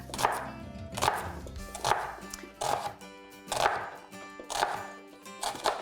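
Kitchen knife chopping vegetables into chunks for a Greek or chef's salad, a steady series of about seven firm, evenly spaced cuts striking a cutting board, close and clear with no voice.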